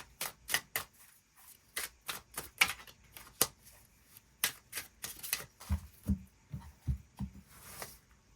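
Tarot cards shuffled and drawn: a quick run of crisp, sharp card flicks and riffles at close range, with a few soft lower thumps toward the end, and no voices.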